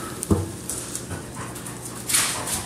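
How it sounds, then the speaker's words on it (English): Several dogs wrestle close by, with panting, soft whimpers and a short yip breaking through scuffling and thumps. "You just watching these crazy old dogs wrestling?"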